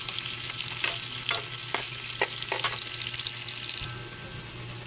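Onion is added to browned garlic for a pork kaldereta and fries with a constant, bright sizzle in a pan, with a few sharp scrapes and knocks of a utensil, close up and without speech.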